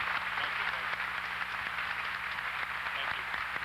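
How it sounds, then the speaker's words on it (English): Graduation audience applauding retirees at a 1998 high school ceremony in a large hall, a soft, steady wash of distant clapping over a low electrical hum, with faint voices beneath. "Let's give them a big round of applause"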